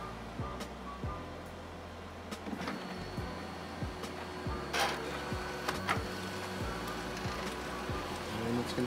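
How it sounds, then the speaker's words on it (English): A white toner printer feeds a single sheet, giving repeated mechanical clicks and thumps roughly every half second over a steady motor hum, with a brief louder whir midway, close and moderately loud. "printer is connected to the network. It's gonna feed in my one sheet that I have here."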